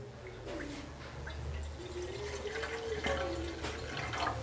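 Water from a glass poured slowly into a pot on a low-flame gas stove, a steady trickling flow with soft splashes, close and moderately loud, no talk.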